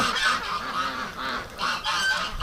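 A flock of geese and ducks, including Muscovies, honking loudly and repeatedly in overlapping bursts, close by and continuous, no talking.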